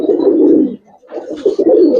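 Giribaz pigeons at a loft coo in deep, throaty rolling bursts, loud and close, with a brief pause near the middle before the cooing resumes.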